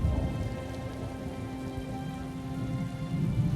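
Steady rain pours during a thunderstorm in The Elder Scrolls Online, a dense, continuous hiss of drops pattering on surfaces, with a low rumble underneath and no voices.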